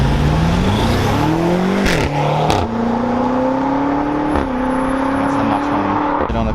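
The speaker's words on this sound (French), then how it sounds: "Et encore une M5 cette fois, la F90." A BMW M5 F90 runs flat out at a driving event, its engine note climbing steadily through the gears with brief shift breaks, loud and close under crowd and wind noise.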